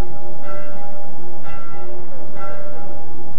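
Church bells of San Giovanni in Rome ringing for Mass in the early morning, loud and sustained with repeated strokes about once a second blending into a continuous metallic toll.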